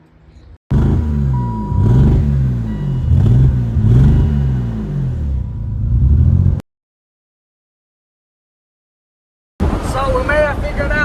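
A BMW E39 drift car engine, which is misfiring, revs repeatedly with a burbling exhaust in loud close bursts, then goes silent for a few seconds before another rev.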